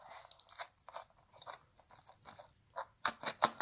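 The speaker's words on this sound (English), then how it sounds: "And we're just gonna cut this rubber surround." A blade cuts through the rubber surround of a car speaker in a series of short crunchy snips and scrapes, close and moderately loud, with a denser flurry at the end.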